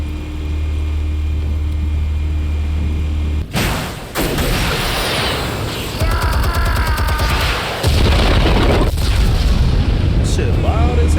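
Armed explosives detonate in Batman The Telltale Series: a sudden deep boom, then heavy crackling rumble and debris noise that keeps going loud and close.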